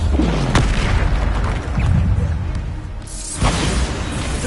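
Booming blasts of the Bombarda explosion spell in the video game Hogwarts Legacy, with sharp bursts near the start and again later over loud, rumbling combat noise.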